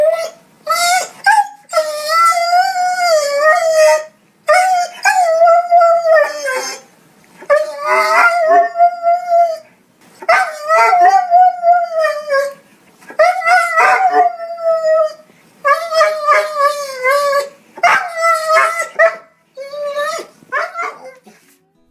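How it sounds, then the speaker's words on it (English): Dog crying in a comical way: a series of drawn-out, wavering howls and whines, about eight bursts separated by short pauses, loud and close, heard alone. "Number 3, dog crying funny."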